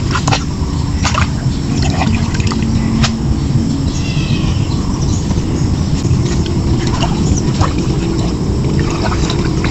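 River water flows out where channels meet, a constant rushing and trickling wash that fills the whole stretch, with faint scattered ticks and chirps above it.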